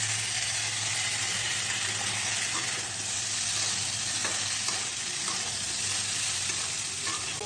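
Soaked chickpeas tipped into a papaya and potato curry and stirred in the pan, a steady close sizzle with scraping stir strokes running throughout, no voices.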